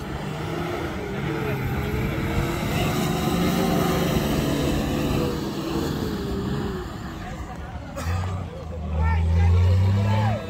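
A modified Patrol off-road vehicle's engine drones at a trial race event near Cluj, swelling louder near the end, while people talk over it.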